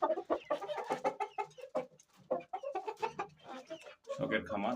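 Pet hens on a small home farm cluck in close, uneven bursts, loud and busy throughout, with a few sharper calls near the end.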